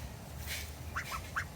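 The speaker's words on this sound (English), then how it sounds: "Here are the ducks." Ducks at a backyard chicken coop let out a few short, fairly faint quacks in quick succession over low outdoor background noise.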